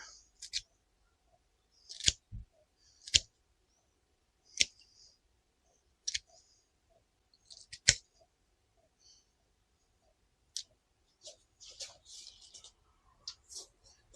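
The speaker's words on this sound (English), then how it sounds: "We'll snip that off here now." Scissors snipping off healthy white plant roots in a greenhouse: a dozen or so sharp, crisp clicks spaced irregularly, close and clear against near silence.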